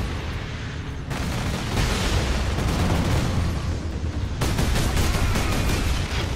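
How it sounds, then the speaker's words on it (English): A heavy gun fires in a sustained, dense roar of rapid shots and booms in Warhammer 40,000 Space Marine, loud and close, continuing without pause and heard alone. "Ah, that's a heavy gun."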